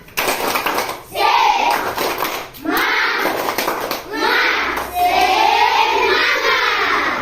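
Primary school class doing a tepuk semangat spirit clap: children's voices chant together in a loud, continuous stretch, with rhythmic hand claps mixed in.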